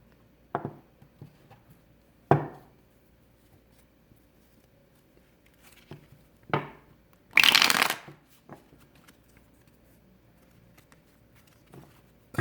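A deck of oracle cards being shuffled and riffled in several separate bursts, crisp and close, with one longer, louder riffle near the middle amid quiet pauses.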